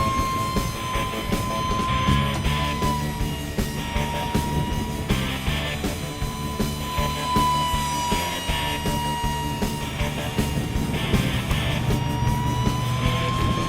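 A Great Planes F-86 Sabre micro EDF RC jet flies a loop, its electric ducted fan giving a steady, loud tonal whine that swells and dips in pitch as it circles overhead.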